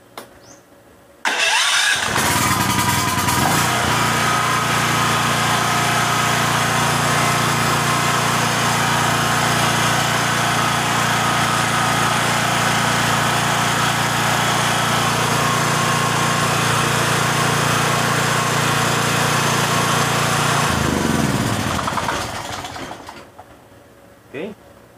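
A brush-type generator's small engine catches after a pull start and settles into a loud, steady, close roar that runs unbroken for about twenty seconds, then dies away near the end.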